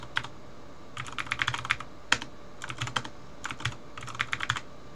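Typing on a computer keyboard while editing in Emacs: quick bursts of close, crisp key clicks with brief pauses between runs, over a low steady hum.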